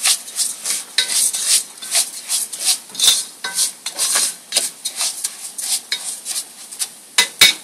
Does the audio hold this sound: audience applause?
no